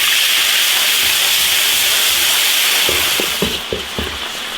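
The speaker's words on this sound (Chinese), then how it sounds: "继续烧油炒调料，生姜、辣椒酱炒香" Ginger and chili sauce stir-fry in hot oil in an iron wok, giving a loud, steady sizzle and hiss that thins toward the end as a few soft stirring knocks come through.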